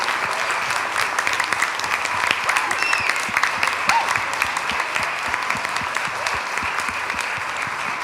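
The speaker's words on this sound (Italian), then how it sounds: "E allora facciamo un altro applauso, ma questa volta al nostro Signore Gesù" A congregation applauds during a Christmas-season worship service in an Italian church, a steady, dense wash of many hands clapping that holds evenly from start to finish, with no speech over it.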